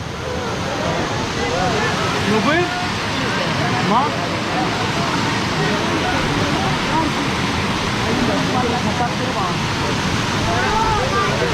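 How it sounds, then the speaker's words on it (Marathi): River water flows near the Mangeri caves in a forested area, a steady broadband rushing wash filling the scene close by, with people talking faintly beneath it. "हे बघा नदीसारखा भाग आहे सुंदर असं"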